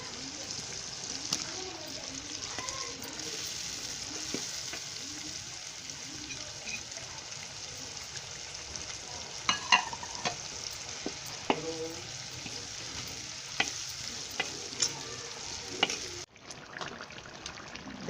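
Three large tomatoes fry in spiced oil in a pan for an eggplant and potato curry, giving a steady soft sizzle with occasional scrapes of stirring while a voice talks over it.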